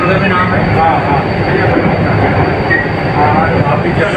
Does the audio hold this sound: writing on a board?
no